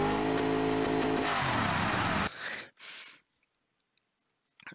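Simulated twin-scroll turbo car engine in the Automation game revving hard and loud for about two seconds, then cutting off abruptly, followed by two short whooshing bursts and near silence.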